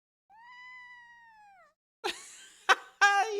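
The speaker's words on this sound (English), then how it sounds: "He actually meowed." A pet cat named Percy gives a drawn-out, rising-then-falling meow, followed by a couple of shorter, sharper chirpy mews close to the listener, with no talking over them.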